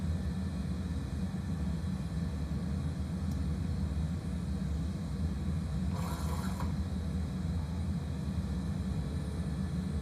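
A simulated airliner climbs after takeoff out of Vancouver in a flight simulator, giving a steady, even engine rumble and airflow drone throughout, with one brief brighter hiss partway through and no talking.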